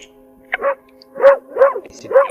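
A dog in the horror video game Moth Lake gives about four short, loud barks in an uneven rhythm, close and clear.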